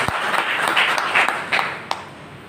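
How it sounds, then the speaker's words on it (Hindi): Audience clapping for the organisers at a Hindi Day poetry gathering, a short burst of applause from a crowd with a few sharper claps standing out, steady and moderately loud, then tapering near the end. "जोरदार तालियां आयोजकों के लिए"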